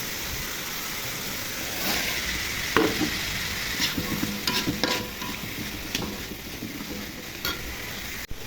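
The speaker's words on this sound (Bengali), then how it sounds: "এখন গাজর কুচি দিয়ে দিব কেটে রাখা গাজরগুলো দিয়ে ভেজে নেব কেটে রাখা আলুগুলো দিয়ে ভেজে নেব" Chopped carrots and potatoes being stir-fried for a mixed vegetable dish, with a steady loud sizzle and a spatula scraping and turning the pieces close by throughout.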